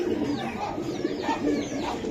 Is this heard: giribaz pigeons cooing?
yes